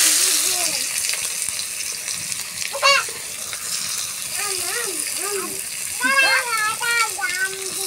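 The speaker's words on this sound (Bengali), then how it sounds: "তো চিনিটা লাল হয়ে গেছে, এবার আমি এর মধ্যে পেঁয়াজ দিয়ে দেবো।" Chopped onions hiss and crackle steadily as they fry in hot oil with caramelized sugar in a pan, a close, continuous sizzle under a person talking.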